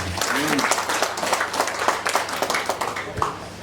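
Applause from an audience at the opening of a regional government development planning meeting in Teluk Wondama, a sustained wash of many hands clapping with faint voices mixed in.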